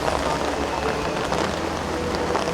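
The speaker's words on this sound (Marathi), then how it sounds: "एकदम जोरात असा एकदम पाऊस चालू झाला फुल असा पाऊस आहे" Heavy rain pours steadily and close at Panhalgad fort, a dense, unbroken wash of drops on surfaces with a low rumbling undertone throughout, no voices heard.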